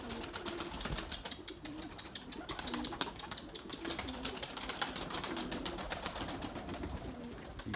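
Young white Candır and Gökbey pigeons flying and landing make a soft, fast fluttering and clapping of wings with occasional faint coos, steady and fairly distant throughout.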